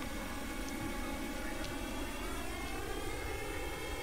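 Steady jet engine roar from a Sukhoi Su-24 Fencer in the video game Flight Simulator X, a continuous broadband rumble and hiss holding even and fairly loud throughout, with no talk over it.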